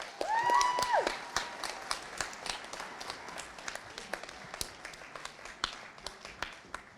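Audience applause for three speakers at an in-person UK sales awards event: a steady patter of clapping from a moderate crowd, with a brief whistle-like tone near the start.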